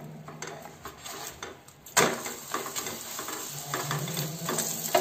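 Mustard oil hits a roti on a hot pan and breaks into a sudden sizzle partway through, after quieter scraping and handling, then keeps crackling steadily close by.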